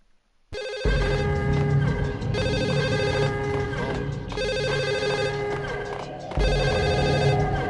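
A telephone rings in the video game Max Payne 2, loud repeated electronic bell bursts with short gaps between them, steady and close, with no talk over it.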